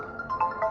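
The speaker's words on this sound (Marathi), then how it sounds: "आता ह्यामध्येच आवाज येत असेल, फोन येतो एक मला" A brief snatch of a phone ringtone, a few electronic melodic tones, moderately loud and heard alone.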